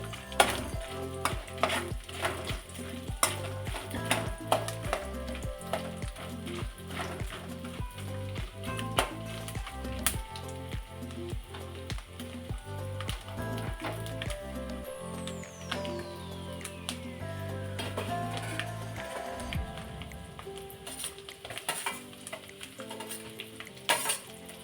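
Garlic and curry leaves sizzle in hot tempering oil for a spiced puffed-rice dish. The frying hiss is steady and close, broken by rhythmic scraping and clinks of a spoon stirring against the pan.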